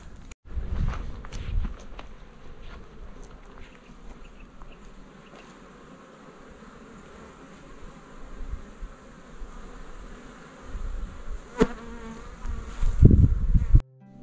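Bees buzz steadily around beehives set among flowering mimosa on a hillside trail, a soft continuous insect drone with footsteps crunching underneath and a few louder rustles near the end.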